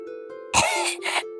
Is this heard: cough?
yes